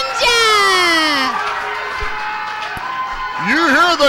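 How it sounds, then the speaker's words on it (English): A wrestling arena crowd screams and cheers loudly and continuously, with high shrill voices standing out near the start and end, while a commentator talks over it. "You hear the crowd screaming for the Ninja and the Jaguar."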